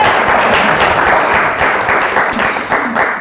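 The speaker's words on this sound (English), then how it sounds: "round of applause" An audience claps for several seconds at a talk on psychedelic healing, dense steady applause heard close and loud throughout.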